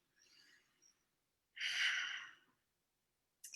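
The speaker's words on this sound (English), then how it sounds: "So we're going to take a breath." A group inhales deeply together at a Shabbat gathering, giving a soft, airy intake, then a louder, longer breath a moment later, heard faintly in a quiet room with no talking.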